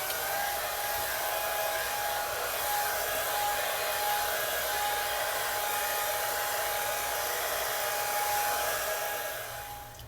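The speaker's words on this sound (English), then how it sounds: "So I'm about to blow dry this and then we'll come right back." A hair dryer blows continuously at close range, a steady loud whooshing hum with a high whine that fades slightly at the end.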